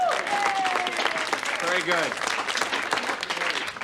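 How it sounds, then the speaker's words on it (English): Loud studio-audience applause fills a sitcom classroom scene, steady dense clapping throughout, with a voice speaking briefly over it. "Applause, applause."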